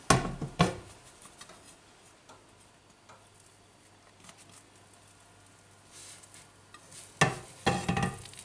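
Bread dough, flipped and set back into a covered frying pan, cooks with a faint, steady sizzle. Louder clattering knocks and scrapes of the pan come at the start and again near the end.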